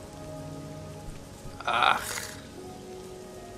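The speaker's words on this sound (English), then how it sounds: "Hopefully it stopped raining." Steady rain falling in the Morrowind game world, a constant soft hiss throughout with a brief louder rustling burst midway and a short grunt from a voice.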